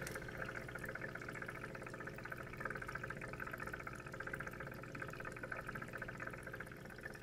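The small water pump of a Miracle-Gro AeroGarden 3SL indoor garden runs with a steady, soft bubbling and trickling, like a tiny aquarium filter, faint and continuous with no voices.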